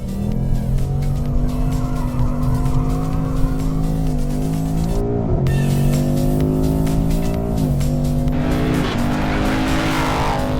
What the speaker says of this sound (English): It goes into a slide so predictably because of the diff and the tires that we're on.